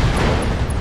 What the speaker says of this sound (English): SRM ammo explosion. Just took out the whole mech.